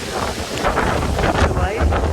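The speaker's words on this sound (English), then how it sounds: "We've got wind gusts up to 60 today" Strong wind gusts of 40 to 60 mph buffet a Big Agnes Tiger Wall UL 3 tent during a gale, a constant loud roaring rush with surging peaks and fabric flapping close by.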